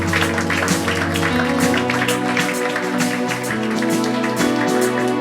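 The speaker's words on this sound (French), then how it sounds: "On peut applaudir à la gloire de Dieu" A church congregation claps together in praise, dense and fairly loud, with music and a few shouts mixed in.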